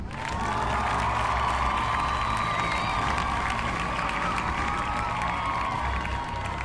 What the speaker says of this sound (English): Everyone, round of applause for Mikey.